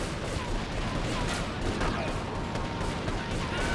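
Gunfire in Grand Theft Auto III, a continuous noisy barrage of overlapping shots and rattling bursts that keeps going at steady loudness for several seconds, with some muffled voice underneath.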